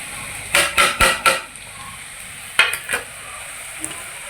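Ground spices with ginger and garlic paste being stirred in a frying pan, four quick scraping strokes, a pause, then a few more scrapes and clinks over a quiet low sizzle.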